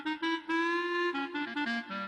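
Keyboard clarinet voice playing a short melodic phrase, a handful of reedy notes that hold then step downward, fairly quiet and unaccompanied.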